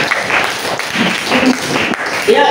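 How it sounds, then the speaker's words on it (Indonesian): A classroom group breaking into applause, a dense, loud wash of clapping hands sustained close by for a couple of seconds, with voices mixed faintly into it. "Oke, tepuk tangan."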